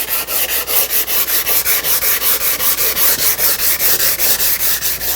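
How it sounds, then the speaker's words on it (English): An oak rocking chair is sanded by hand with 320-grit sandpaper: quick, even back-and-forth rasping strokes, about four a second, close and loud, with no talking. "I'll go by hand with 320 and polish this all out."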